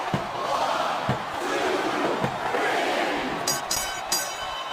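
A simulated arena crowd in the WWE SmackDown vs Raw 2007 video game roars steadily through a women's championship ironman match, with thuddy impacts and a few sharp higher bursts near the end.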